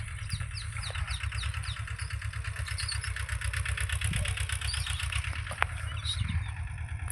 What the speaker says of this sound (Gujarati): અમારે આ જીઓ ટ્રેક્ટર છે